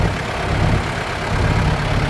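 A Kubota L5018 tractor engine idles at about 1000 rpm, giving a steady, close, low rumbling drone that holds even throughout with no voices.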